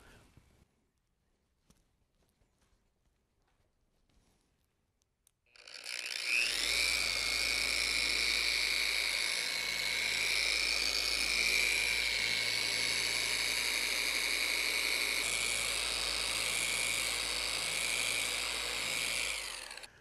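After about five seconds of near silence, a power polisher buffs a mold plug coated in heavy cutting compound, giving a loud, high, steady whine that runs to the end.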